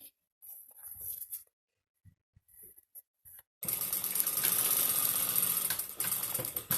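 A sewing machine stitches fabric for a garment's button placket, starting after a few scattered soft handling sounds and then running in a steady close, continuous whir to the end.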